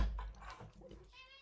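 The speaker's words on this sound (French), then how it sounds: "là il y a le chat qui miaule comme d'habitude" A cat meows indoors, a few faint, short cries amid soft household background noise.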